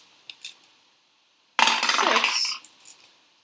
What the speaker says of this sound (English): Carly, as the starting player, will now roll 9 dice